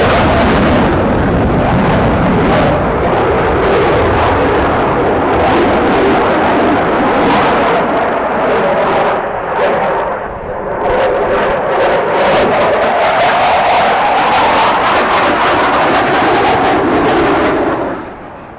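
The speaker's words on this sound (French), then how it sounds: "vous avez un pilote de Rafale qui nous a fait un passage à très basse vitesse et qui a engagé son appareil immédiatement sur un looping" A Rafale fighter jet at the Paris Air Show at Le Bourget makes a very low-speed pass and pulls straight into a loop on the power of its two engines, a loud continuous roar swelling and shifting in pitch, fading near the end.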